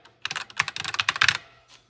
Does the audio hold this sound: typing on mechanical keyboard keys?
yes